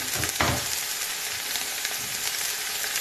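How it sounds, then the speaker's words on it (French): Onions tipped into a hot pot over a strong flame, hitting the oil with a brief burst at the start, then settling into a steady, close, dense sizzle and crackle of frying with no talking. "par-dessus, je déverse les oignons"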